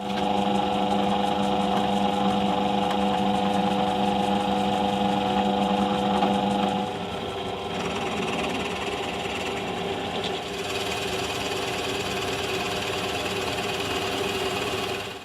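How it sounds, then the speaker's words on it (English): A Forstner bit drills a hole in wood during classical guitar building, a steady tonal motor whine with a clear shift in pitch and texture about halfway through as the load changes, then continuing evenly to the end. "then I'm going to use a Forstner bit to do the rest of the work"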